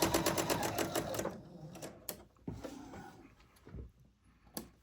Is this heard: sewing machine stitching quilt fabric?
yes